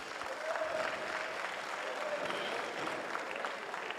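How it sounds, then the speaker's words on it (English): Applause from the audience at a public hearing in Mthatha Town Hall, a moderate, even wash of clapping from a roomful of people with faint crowd murmur. "a round of applause."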